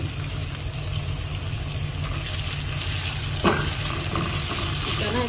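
Thinly sliced chicken sizzles steadily in a hot pan, a loud continuous frying hiss with a brief stir or clatter midway and no talking.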